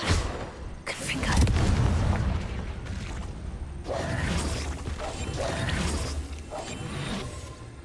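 Confringo spell blasts in Hogwarts Legacy, a string of loud booming bursts with crackling impacts in quick succession, one after another across the clip, near and heavy, mixed with a voice speaking.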